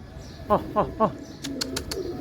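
A pigeon clinging to a net gives three soft, evenly spaced coos close by, followed by a few brief clicks and rustles.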